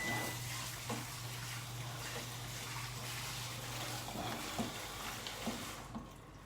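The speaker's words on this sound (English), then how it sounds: "I am gonna give the lid a quick rinse." A kitchen appliance lid rinsed under a running tap, a steady rush of water with a low hum beneath that stops near the end, followed by a few soft knocks.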